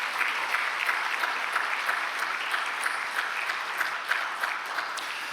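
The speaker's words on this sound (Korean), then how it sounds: "우리 주일 예배 찬양단을 위해서 우리 함께 격려하며 박수할까요?" Steady applause from a church congregation honoring the Sunday worship praise team, dense even clapping sustained throughout without a break, filling the sanctuary at a moderate level.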